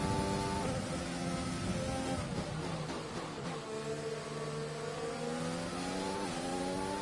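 F1 2020 Formula One car engine revving and accelerating in a race, a steady high-pitched whine rising in pitch across several gear changes, loud and continuous with no talk.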